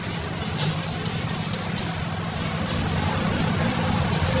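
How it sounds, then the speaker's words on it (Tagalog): A Seaways all-purpose cleaner spray bottle fires a quick series of short, regular hissing squirts, about a dozen evenly spaced pumps up close with a brief pause midway. "Shake muna natin and then spray."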